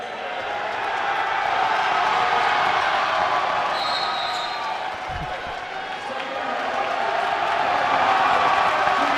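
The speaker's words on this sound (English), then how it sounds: "the crowd is lighting up as Calvin Finch Jr. is returning to the game" Crowd noise swelling and cheering in a college basketball gym during a game against Middle Georgia State University as a player returns to the court, a steady broad roar with a brief low thump midway.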